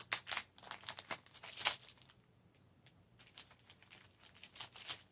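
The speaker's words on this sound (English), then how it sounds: "My bag's falling apart as I pull it out." A plastic bag from an action camera box crinkles and rustles as it is pulled out, producing irregular quiet crackling bursts with brief pauses, close up and with no talk.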